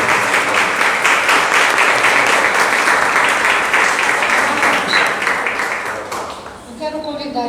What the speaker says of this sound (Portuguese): Vamos aplaudir o Senhor, dando graças a Deus.